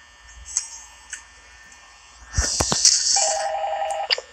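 An old-style telephone bell rings in the horror video game Five Nights at Freddy's, a loud trilling burst after a few soft ticks and clicks, followed by a steady electronic tone.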